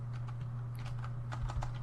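Code is typed on a computer keyboard in soft, scattered key clicks over a steady low hum, fairly quiet and with no talking.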